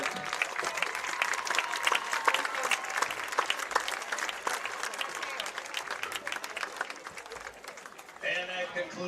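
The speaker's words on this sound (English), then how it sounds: "One more round of applause for the homecoming court." A crowd at a high school football game applauds the homecoming court at halftime, dense, continuous clapping with scattered voices, fading slightly before an announcer's voice cuts in near the end.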